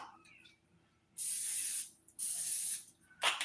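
Cooking spray hisses from a can in two sustained bursts of about a second each, loud and close in a home kitchen, followed by a short third spurt, with quiet room sound between.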